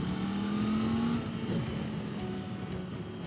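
A 2021 Triumph Tiger 900 GT Pro motorcycle accelerating in third gear, its engine note steady and rising, then easing back after about a second, heard close up with no talk.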